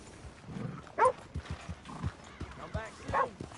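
Hooves clop in short bursts and a horse briefly whinnies in Red Dead Redemption 2, with a voice speaking in between, all fairly close and moderately loud.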